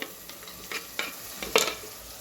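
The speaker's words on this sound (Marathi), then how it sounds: "टोमॅटो थोडंसं त्यात परतून द्यायचं मऊ येईपर्यंत" Tomatoes softening in a pan with curry leaves and coriander, a quiet sizzle broken by several sharp spatula scrapes and stirring clinks, the loudest near the end of the short stretch.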